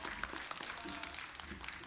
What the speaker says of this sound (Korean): 격려의 박수 각자에게 좀 다시 한번 드리면서